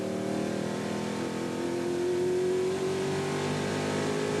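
TVR Tuscan race cars from the 1990 Tuscan Challenge roar past on a circuit, a loud sustained engine drone with a rising, shifting pitch as the cars pass.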